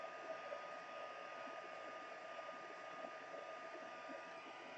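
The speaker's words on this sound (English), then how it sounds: "So let's get our gun nice and warm. I'm going to heat a little bit from the backside." A heat gun warming a plastic window sheet for faux stained glass gives off a faint, continuous airy whir, like a hair dryer, with no change or break throughout.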